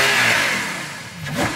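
Ferrari GTC4Lusso engine revving loudly up close, a strong roar that eases off then climbs again in a sharp rising blip near the end.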